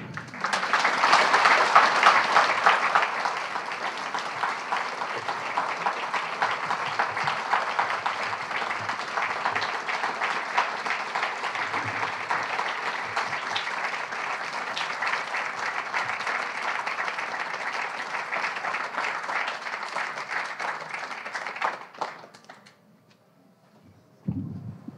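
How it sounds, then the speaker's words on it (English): An audience applauds after a poetry reading, a sustained wash of many hands clapping for about twenty seconds before fading out into near silence. "One more round of applause, please."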